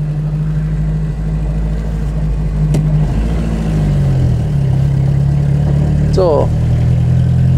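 A 1940 Rosengart LR539 Supertraction with a 50 hp engine runs steadily, its low hum shifting pitch midway as it pulls along, with a voice talking briefly over it.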